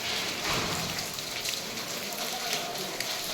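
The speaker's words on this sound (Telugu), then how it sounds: "మీకు చెప్పాను కదా వాటర్ పడుతూ ఉంటుందండి ఎప్పుడు అని చెప్పని. ఆ కొండలపై నుంచి అదిగో" Water pours down from the hills at a hillside Shiva temple, a dense and constant hissing rush with no break, like heavy rain.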